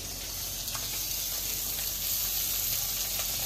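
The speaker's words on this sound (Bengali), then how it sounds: "মাছ ভাজা হোক বাবা" Shing fish (stinging catfish) frying in a pan of hot oil, a steady broad sizzle and hiss that keeps going for the whole stretch at moderate loudness, with no voices over it.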